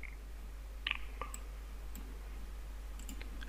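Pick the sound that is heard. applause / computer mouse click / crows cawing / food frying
computer mouse click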